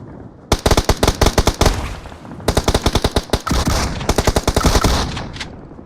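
Automatic gunfire in the mobile game PUBG Mobile comes in three loud, rapid bursts of sharp shots, with short gaps between them.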